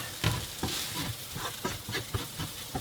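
Curry powder cooks in a pan for vegan curry fried rice. Soft sizzling runs under irregular scraping and stirring strokes, close and moderately loud, with no talking.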